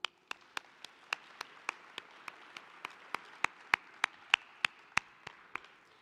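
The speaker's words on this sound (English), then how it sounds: "You all deserve a round of applause." Sparse applause from a science conference audience in Boston, a slow run of individual sharp claps spaced evenly, fairly quiet and roomy, with no talking over them.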